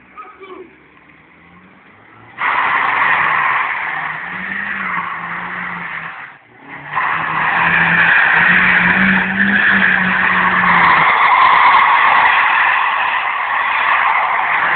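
A Hyundai drifts at a drifting event in Dallas, its tires squealing and skidding loudly and continuously under engine noise, with a short dip near the middle before the screech resumes.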